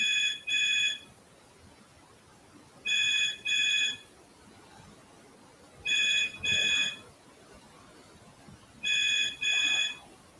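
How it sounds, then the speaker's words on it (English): A house phone trills in repeated double rings, evenly spaced about three seconds apart, clear and nearby against a quiet room. "that's the house phone ringing"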